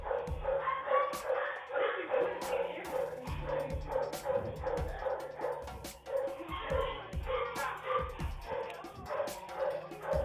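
Several dogs at a pet store bark, yip and whimper almost nonstop, sounding thin and tinny through a phone line, with faint voices mixed in.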